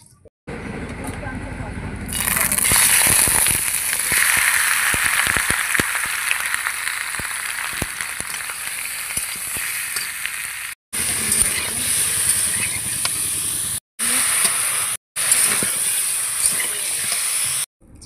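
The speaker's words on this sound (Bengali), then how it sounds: "প্রথমে অল্প তেল দিয়ে চিকেনটাকে একটু ভেজে নেব।" Chicken pieces frying in a little oil in a wok in a rustic home kitchen, a steady loud sizzle and hiss that drops off in short gaps, with clanking moments.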